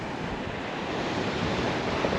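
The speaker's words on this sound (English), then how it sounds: "You have the waves coming in and there'd be probably a rip going out that way." Waves rolling in on a beach in Thailand with turquoise water, a steady broad wash of surf mixed with some wind noise on the microphone, fairly distant and even throughout.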